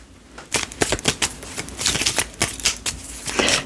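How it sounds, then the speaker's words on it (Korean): Tarot cards shuffled rapidly and drawn by hand, a close, crisp burst of riffling flicks and papery slaps in quick irregular succession, loud and without talk. "추가 카드 조금만 뽑아볼게요."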